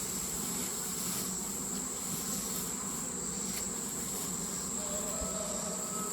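Honeybees from a late-summer swarm being moved into a hive drone in a soft, steady hum, with no voices breaking in.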